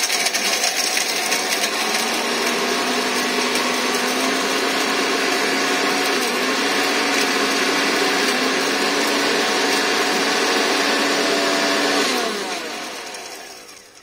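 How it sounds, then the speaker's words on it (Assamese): A kitchen grinder whirs steadily as it grinds cashews into a fine powder, a loud, even motor whine lasting about twelve seconds before it winds down and stops. "এতিয়া মই কাজুকেইটা গ্ৰাইণ্ড কৰি ল'ম"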